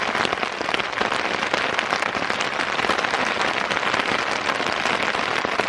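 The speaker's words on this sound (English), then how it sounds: "This is the first real rainstorm this tent's been in" Heavy rain hammers steadily on a tarp stretched over a backpacking tent in a monsoon downpour, a loud, dense, unbroken patter close overhead with no pauses.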